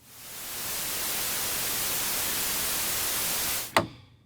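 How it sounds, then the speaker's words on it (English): A pink noise test signal plays on the right stereo channel, a constant broadband hiss that ramps up, holds steady for several seconds, then stops abruptly with a short click. "and the right pink noise."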